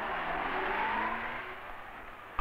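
A car pulls away and accelerates in a 1970s robbery scene, its engine a steady close revving roar that slowly fades without any talk.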